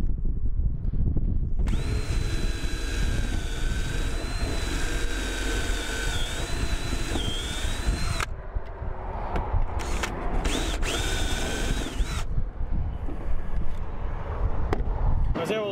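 A power drill drives a screw to mount a new sign, whining steadily for several seconds, pausing, then giving another shorter burst, with a voice talking over it.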